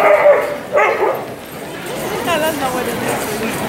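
Dogs bark and yip at a canine training session in Victoriaville, a few sharp barks near the start followed by whimpering and chatter, with people talking underneath.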